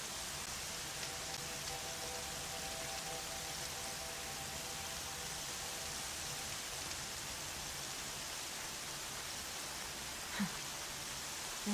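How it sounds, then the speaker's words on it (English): Steady in-game rainfall in Horizon Zero Dawn, a soft, even patter and hiss that stays constant and fairly quiet throughout. "Rain's not so bad."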